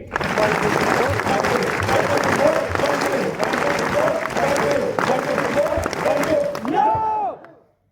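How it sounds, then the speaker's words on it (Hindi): A group at a leadership development program in Delhi claps hands together on a count, a dense, loud burst of steady applause lasting about seven seconds before stopping abruptly. "ताली बजाना मुश्किल था क्या?"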